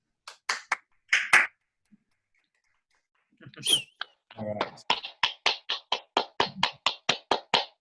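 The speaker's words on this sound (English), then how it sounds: "they definitely clapped loud" Three people clap loudly together at a movie talk event at the Frank Banko Alehouse Cinemas, a fast, even run of about a dozen claps after brief speech and a few scattered taps.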